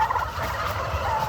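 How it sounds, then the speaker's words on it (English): Tom turkeys gobbling inside a large heated turkey barn, a burst of overlapping close gobbles from a flock of males with no talking. "These are all tom turkeys, which is the male turkeys."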